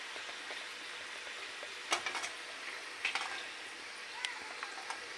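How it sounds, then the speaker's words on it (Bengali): Hot fried pitha cakes stirred in sugar syrup, with soft clinks and scrapes of a utensil against the pan at irregular moments over a faint hiss, close by and fairly quiet, no talking. "এইটাই আবার নাড়াচাড়া দিয়ে মাখিয়ে নেবো"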